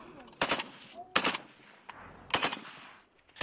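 Short bursts of rifle fire at a military shooting practice ring out in four sharp volleys, moderately distant, with brief gaps of quiet between them.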